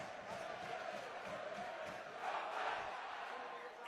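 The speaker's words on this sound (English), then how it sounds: "It's the Rovers fans you can hear." Rovers fans chant and cheer at a rugby league playoff semi-final against London Broncos, a distant, steady crowd roar that swells slightly midway, heard from afar without clear voices on top.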